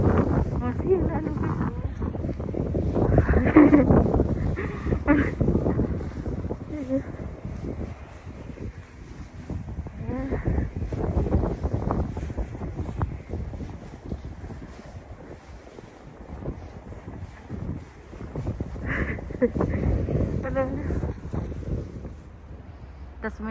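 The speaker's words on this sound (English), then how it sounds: "That's when the wind blows." Wind from a -18 °C winter storm in Ontario, Canada roars and buffets the microphone in heavy, uneven gusts that rise and fall throughout.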